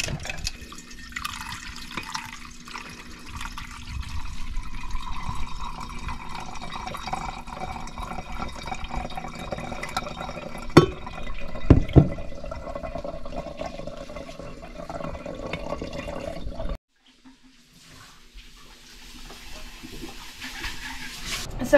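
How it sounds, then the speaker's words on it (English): Goat milk is poured through a metal strainer and a coffee filter, giving a continuous close trickle and splash with a few sharp metallic clinks, then breaking off near the end. "we have to bring the milk in here and strain it"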